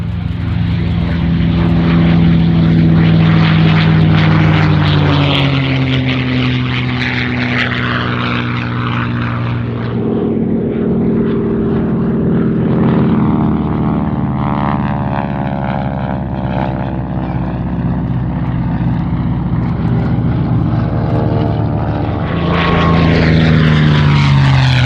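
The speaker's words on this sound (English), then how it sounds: "Here comes the V12 of the Mustang." A P-51 Mustang warbird's V12 engine roars past in a low flyby at an airshow, a loud, continuous propeller drone whose pitch drops as it passes, with no voices.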